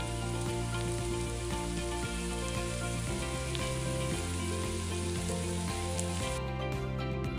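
Mushrooms seasoned with salt sizzle steadily in a pan while being stirred, a dense continuous frying hiss with faint scraping, close and even throughout, no talk.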